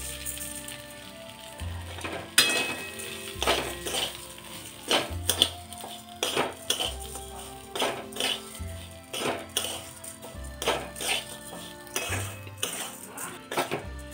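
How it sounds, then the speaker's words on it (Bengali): Rice being stirred with spices and cashews in a metal pot while making basanti pulao, with a steady run of loud scraping and clanking strokes of the spoon against the pot, repeating every second or so with no talk. "চালটা দিয়ে সব মশলার সঙ্গে ভালোভাবে মিক্সড করে নিচ্ছি।"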